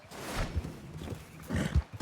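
A horse in Red Dead Redemption 2 snorts and whinnies at close range, with a few hoof thuds between the calls, fairly quiet and without talk.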